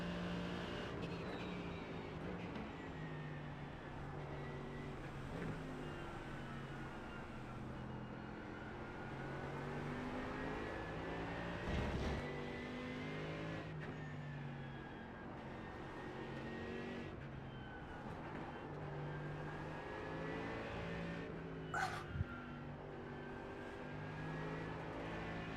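Race car engines, including a Porsche, in a sim racing game produce a faint, steady, high engine drone with pitch rising and shifting through gear changes and a couple of brief knocks.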